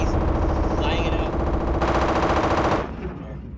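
Machine gun fire in the military shooter game Project Reality, a loud sustained rapid burst of shots that cuts off abruptly, with a voice shouting faintly beneath.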